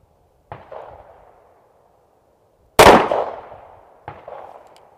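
Staccato pistol gunshots ring out at an outdoor range: two sharp cracks with decaying echoes, the middle shot loud and close, a fainter one before it and another after.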